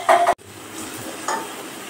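Vegetables for a fish chorchori are fried in a pan, a steady soft sizzle broken by a sharp scrape at the start and a brief cut, then a second stir stroke, close and without talk.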